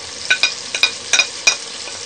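Spices including coriander, turmeric and chilli powder are fried in a pan for daal mash, with a soft sizzle under a handful of sharp, clear clinks from a spoon scraping and tapping the pan.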